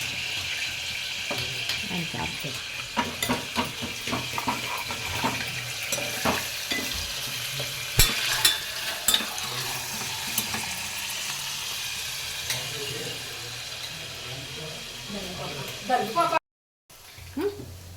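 Onion and curry leaves frying in a pan for a chicken and mutton curry, a steady sizzle with stirring and clinks of a utensil, under a person speaking throughout.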